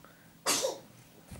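A single sharp sneeze from a child in the background, fairly faint and slightly distant, in a quiet indoor room.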